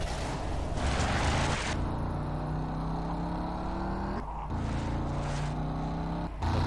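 A car engine drones steadily with rising revs and gear shifts, loud and continuous with a couple of brief dropouts, game-like with no voices.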